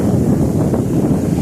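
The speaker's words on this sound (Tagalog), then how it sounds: "medyo lumalakas yung hangin." Strong wind at sea during a fishing trip, a loud continuous rushing and buffeting roar with no other sound.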